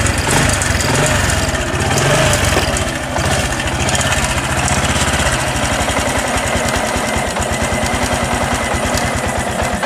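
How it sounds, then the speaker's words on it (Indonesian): Honda Supra X 125 PGM-FI motorcycle engine idling roughly and heavily, a steady close mechanical chug with uneven pulsing throughout, no voices. "Memang setelah saya hidupkan, nampaknya ini untuk stasionernya lumayan berat"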